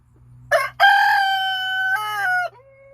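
A dual purpose rooster crows loudly and close by, one long harmonic cock-a-doodle-doo with a brief opening call, falling off at the end over a low steady hum.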